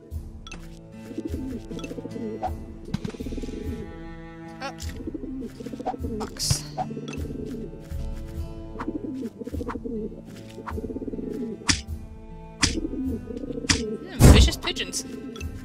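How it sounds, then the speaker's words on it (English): Pigeons coo and get struck in a cartoonish video game, soft cooing and occasional whacks mixed with game music under steady talking, with one sharp loud hit near the end. "Vicious pigeons."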